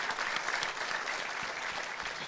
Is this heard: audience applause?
yes